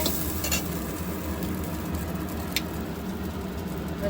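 Flattened rice being stirred in a hot frying pan for spicy chira pulao, giving a steady scraping and sizzling texture with a few light utensil clicks, close and continuous, no voices.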